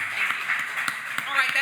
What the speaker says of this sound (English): everybody give Miss Melody Golding a round of applause